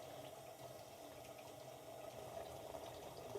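Tap water running steadily into a sink before cleaning a recorder, a continuous soft hiss and splash with no other sounds, fairly quiet.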